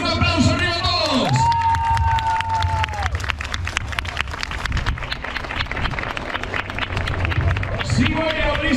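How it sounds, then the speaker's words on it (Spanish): Crowd of runners at a 10K road race clapping and cheering together, a loud sustained burst of applause with shouts, preceded by brief talk from an organizer. "Ahora quiero brazos arriba y un aplauso arriba a todos."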